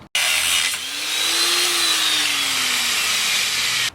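An angle grinder cuts metal on a Duramax diesel Chevy Colorado, a loud, close, steady high whine with a gritty hiss that starts abruptly, drifts slightly in pitch and stops suddenly, with no talking.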